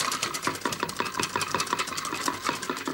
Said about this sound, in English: as I whisk further, it's